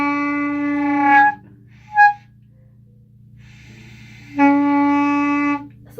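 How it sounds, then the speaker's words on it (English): A flute plays a sustained E, with two held tones of about a second each separated by a short breathy blip and a pause, heard close and alone over a low steady hum. "So that's what your E is gonna sound like."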